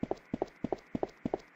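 A looped footstep effect from a Unity survival horror demo game: doubled hollow thuds recurring in an even, quick cadence, close and clear with no talking.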